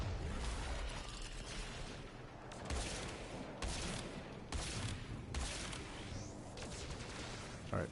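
Gunfire in the video game Warframe, continuous, dense and loud weapon fire with repeated heavier bursts and booms pounding through the whole stretch.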